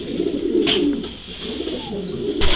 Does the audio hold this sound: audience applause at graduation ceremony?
no